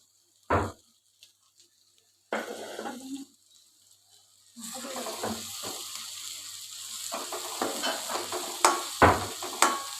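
Roasted spices being stirred and sautéed in a kadhai for a dhaba-style egg curry: brief scrapes and stirring clatter at first, then a continuous sizzle with repeated spoon knocks and scraping.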